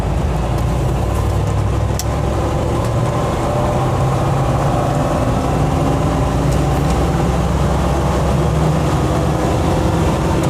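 Land Rover FC101 V8 lumbering along in third gear, a continuous loud low engine drone with steady harmonic hum and broadband road and cabin rumble, no voices.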